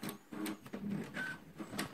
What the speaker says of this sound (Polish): to teraz może zrobimy próbne drukowanie